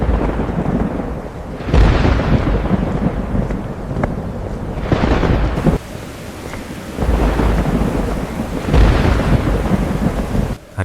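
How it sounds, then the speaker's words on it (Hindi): Heavy rain pours down with loud, rolling thunder. The booming crashes swell and fade in several big waves over a constant roar of rain, and gusts of wind buffet the microphone. "लगता है बारिश होने वाली है।"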